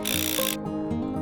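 Rear bushings are worked out of a Subaru Forester control arm with a ratcheting tool, a brief burst of rapid mechanical clicking followed by grinding, creaking strain, close by.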